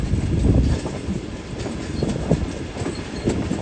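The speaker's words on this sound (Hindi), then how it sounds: "जंक्शन पर ट्रेन अप्रोच बना रही है" A train running toward a junction on a journey from Karachi, a continuous heavy rumble with rhythmic clickety-clack of wheels over rail joints, loud and close.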